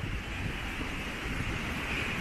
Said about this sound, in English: it'll actually be a lot less windy. I mean, you'll still hear the wind